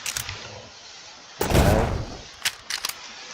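Model 1886 lever-action rifle shots in the Minecraft Create mod: a long, loud blast in the middle, with a few short sharp cracks and mechanical clicks before and after it.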